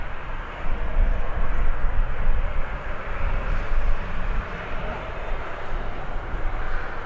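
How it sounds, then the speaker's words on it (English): A Ryanair airliner departs Birmingham airport with a steady, broad engine roar that holds loud and continuous throughout, sounding fairly close. "there's our next departure, Ryanair."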